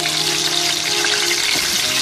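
Chicken pieces coated in garlic-ginger paste fry steadily in oil for a Pakistani saffron chicken korma, giving a dense, continuous close-up sizzle with a faint stir partway through.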